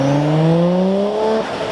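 A right-hand-drive Nissan Skyline GT-R R34 with an RB28 engine rolls past at a Porsche car gathering, a loud, close, steady engine drone whose pitch sags slightly before fading as it moves away.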